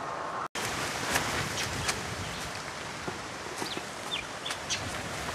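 Chickens cluck in a yard, with faint scattered calls over a steady hiss of rain or wind and a brief dropout near the start.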